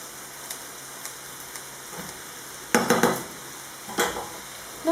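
A spoon stirs and mixes msemen filling in a pan. Quiet scraping and sizzling run underneath, and a few clattering strokes against the pan stand out, near and soft, with no one talking.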